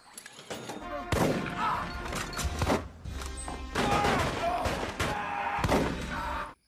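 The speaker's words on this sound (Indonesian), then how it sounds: "Saat transaksi tiba-tiba mereka disergap polisi setempat dan terjadilah adegan saling tembak-menembak." Gunfire in a film shootout with police, impactful bursts and crashing shots hitting loud in several clusters, with thuds and slams mixed through a busy action soundtrack.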